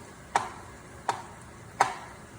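A knife slicing mushrooms, heard as three crisp, evenly spaced taps on a cutting board, fairly quiet against a low background hiss.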